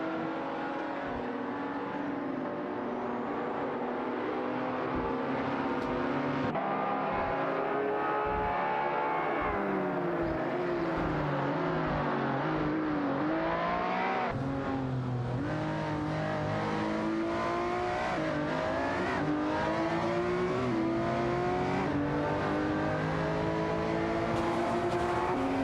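Race cars battling on track in a racing video game, including a Lamborghini Murcielago and a Jaguar F-Type Project 7R, with loud sustained engines that rise and fall through gear changes, several cars overlapping closely and no talking.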